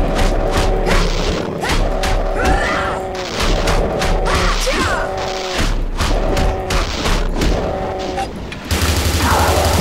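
Rapid gunfire in Doom 2 with the Space Pirate mod, loud repeated shots and booming blasts in quick bursts with brief gaps, ending in a harsh burst of noise.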